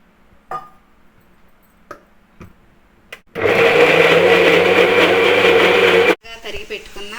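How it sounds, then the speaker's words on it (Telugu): A mixer grinder whirs loudly for about three seconds as it grinds soaked chana dal with a little water and salt, with a few clinks and handling sounds before it starts and after it stops. "కొద్దిగా వాటర్ పోసి మిక్సీ పట్టుకుందాం."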